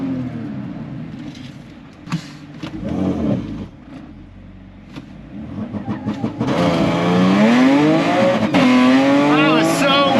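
Audi B8 S4 launching on wet tires, a low engine idle and brief revs giving way to a loud rising acceleration with climbing pitch, with someone talking early on.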